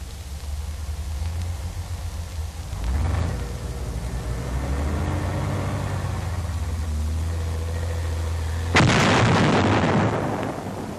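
An armored engineer vehicle converted from a medium tank idles with a low engine rumble, broken by a dull blast around three seconds in and a sharp, loud explosive charge near the end.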